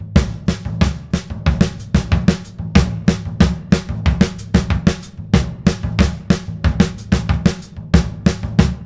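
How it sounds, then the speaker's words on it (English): Fast samba groove played on a drum kit, with floor tom, snare and hi-hat hitting in a dense, steady rhythm of sharp, close, loud strokes throughout, no talking. "Here's another way that you might play a samba groove."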